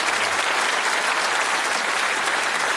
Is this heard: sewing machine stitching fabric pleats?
no